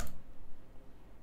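A single sharp computer mouse click while applying a setting in audio editing software, followed by a low, steady background rumble with faint ticking.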